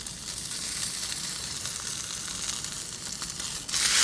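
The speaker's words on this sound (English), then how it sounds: "All right, so we've got our beautiful sear on this. We're just going to sear the sides." Venison seared in a hot pan gives a continuous, dense sizzling hiss at fairly close range. It holds steady for about four seconds and swells louder at the very end, with no voices.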